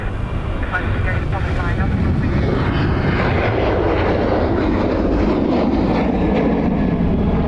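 An airliner departing from the north runway at Dublin Airport produces a loud, steady broadband jet roar that swells and holds throughout, with a radio voice faintly underneath.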